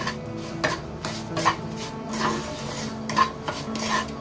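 Semolina and desiccated coconut are stirred in a pan, with a steady rough scraping and rubbing, rhythmic light knocks of the spoon against the metal, and no talk.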